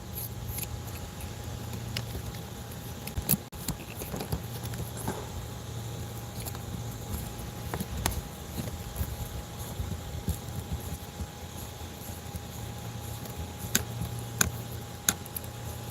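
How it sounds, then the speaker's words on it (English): Rain patters steadily over the water during a bass fishing outing, a continuous soft hiss with scattered louder drops and taps throughout, no voices heard. "Oh yeah, I definitely hear that rain coming in."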